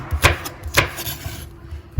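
Two sharp knife chops through peppers on a wooden board, about half a second apart, followed by a quieter knock at the end.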